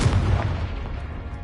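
A Confringo fire spell bursts in Hogwarts Legacy with a single loud, close, booming blast that decays into a rumbling tail over about a second.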